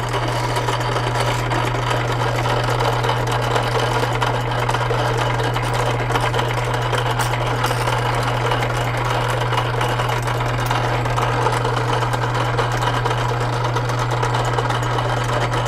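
Lathe running steadily while polishing a Winchester 1894 screw, a constant hum with a strong low drone and a fine hiss of polishing over it, unbroken throughout.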